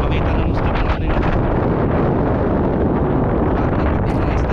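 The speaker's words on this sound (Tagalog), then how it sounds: "Sobrang lakas ng hangin." Very strong wind buffets the microphone on a fishing outing in windy, rainy weather, a loud continuous low roar and rumble with gusty flutter, steady for the whole stretch with no talk.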